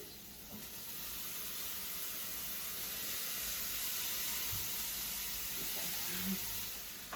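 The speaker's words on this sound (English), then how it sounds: "so Thaddeus is stirring around his rice" Leftover cooked rice from a previous dinner sizzles steadily in a hot pan as it is stirred with other fried rice ingredients, a continuous soft frying hiss with faint low clatter.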